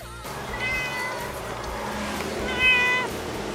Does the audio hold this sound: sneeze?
no